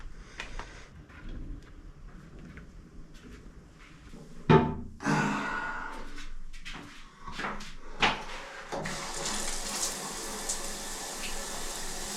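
Hot shower water starts running near the end as a steady, bright hiss, following a series of thuds and knocks like a cupboard or door closing.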